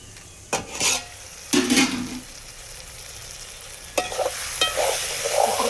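Eggplant sizzles steadily as it fries in oil in a pan for a village-style fish curry, while a few sharp scraping bursts of stirring cut through, close and fairly loud.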